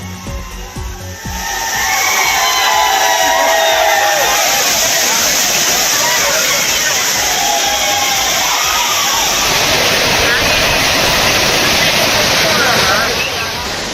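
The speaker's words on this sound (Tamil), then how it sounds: "சுற்றுலா பயணிகள் மகிழ்ச்சி ஆரவாரத்துடன் ஆடி பாடி குளித்தனர்" Crowd of tourists at a waterfall reopened after a bathing ban, voices cheering and shouting over the steady, loud roar of falling water throughout.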